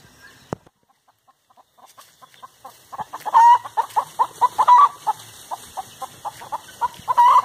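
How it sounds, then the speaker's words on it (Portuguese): Free-range chickens on a rural smallholding cluck nearby in a series of short, repeated calls that grow busier and louder after a few quiet seconds, with no talking. "Tem as galinhas."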